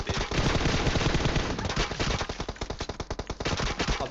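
Automatic gunfire in a mobile battle royale video game: dense, rapid bursts of shots crackling loudly and almost continuously, with short gaps between volleys.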